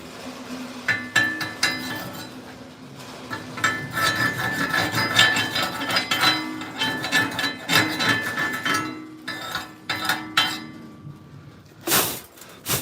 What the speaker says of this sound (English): Chip that out for me, Miss P.